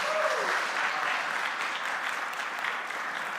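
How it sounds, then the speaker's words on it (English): A conference crowd at App.js Conf 2022 breaks into sustained, even applause welcoming a speaker to the stage, a broad wash of clapping with a brief vocal note at the start. "So let's welcome Magda on stage with the round of applause."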